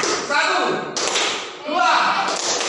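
A classroom of students clapping hands in counted groups, with sharp bursts of claps separated by brief pauses while a teacher's voice speaks over and between them.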